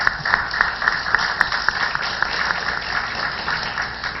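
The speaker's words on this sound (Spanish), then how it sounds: "Recibamos con un fuerte aplauso" Applause from a seminar audience in a hall, a steady wash of many hands clapping with a few sharper claps standing out, moderately loud and continuous with no talk over it.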